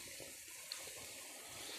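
Pork cracklings frying in hot lard after milk is added, foaming up with a steady, soft sizzling hiss that holds evenly throughout.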